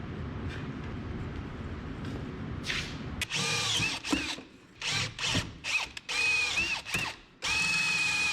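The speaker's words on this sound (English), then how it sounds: "Get us some holes drilled for our spot welds" A power drill bores holes for spot welds in sheet metal on a 1976 GMC truck, running in several loud bursts that rev up and stop, with steady shop noise between them.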